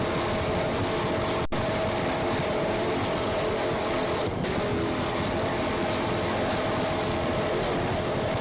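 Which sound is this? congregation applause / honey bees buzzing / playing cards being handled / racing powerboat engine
racing powerboat engine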